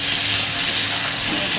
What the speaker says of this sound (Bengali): মশলাটা ভাজা ভাজা হয়ে এসছে